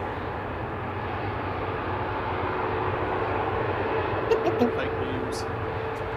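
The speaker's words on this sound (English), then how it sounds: "Runner 9553 to Brussels Charleroi now, 737-800 9H QDB." A Boeing 737-800 airliner at Manchester Airport gives off a steady, broad engine roar that holds at a fairly even level from start to finish, with a short spoken remark and brief knocks near the end.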